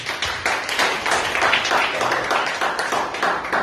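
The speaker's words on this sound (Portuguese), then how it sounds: "Exalte o Senhor com as palmas." A church congregation clapping hands together in worship, a dense steady rhythmic clapping from many people filling the room, loud and continuous with faint voices underneath.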